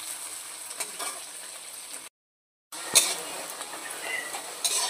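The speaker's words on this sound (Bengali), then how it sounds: "পেঁয়াজটাকে তেলে দিয়ে দিলাম। পেঁয়াজটাকে একটু সুন্দর করে ভেজে নেব।" Chopped onions frying in oil in a pan for a dhaba-style egg curry, a steady close sizzle with light stirring scrapes and a brief pause in the middle.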